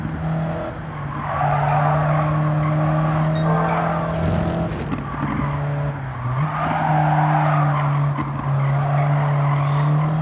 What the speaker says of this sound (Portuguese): Bonito barulho do Clio.